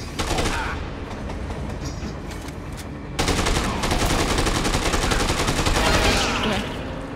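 Rapid automatic gunfire aimed at the player in the video game Dead Rising 2, dense bursts of shots rattling continuously at high volume with a brief shift midway, intense and close.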